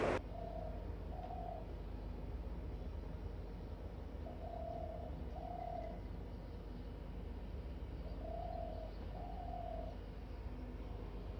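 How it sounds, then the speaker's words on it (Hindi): Birds calling outdoors in a calm early-morning setting, with soft repeated cooing phrases in pairs recurring every few seconds over a steady low background hum, fairly faint and distant. "आप चिड़ियों की आवाज़ सुनना इसमें।"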